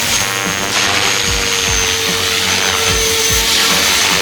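A radio-controlled model aircraft comes in to land, flown with a RadioMaster TX16S transmitter, its steady electric whine and buzz loud and continuous throughout, with wind noise and no talk.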